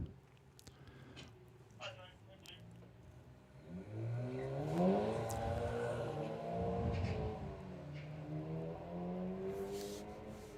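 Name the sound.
VW drag racing car at Bug Jam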